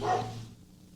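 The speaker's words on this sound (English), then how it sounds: "There's the dogs. See, they're all excited because we're making progress." Dogs bark excitedly indoors, one short bark at the start that fades quickly into low room noise.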